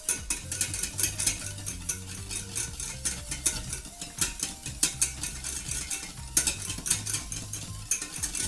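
A utensil stirs softened butter in a pan, scraping and clinking in a steady rhythm of close strokes, with a faint sizzle beneath and no voices.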